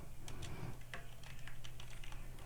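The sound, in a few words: typing a title on a computer keyboard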